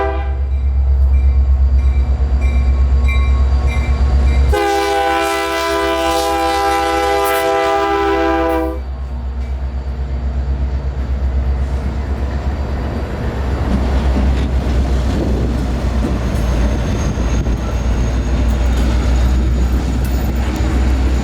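A long CSX freight train rumbles past on the Clearwater subdivision in Florida, loud and close. Its horn sounds one sustained multi-tone blast early on, then the cars keep rolling by in a steady roar.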